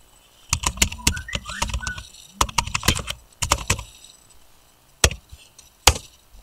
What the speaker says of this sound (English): Here we will type docs.google.com.